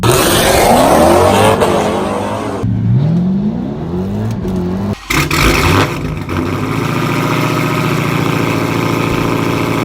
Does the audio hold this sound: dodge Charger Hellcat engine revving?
yes